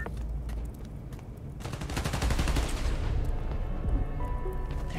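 Gunfire in the Spider-Man Miles Morales video game: dense, rapid bursts of shots and booms rattle on continuously and loudly, close up, with no break.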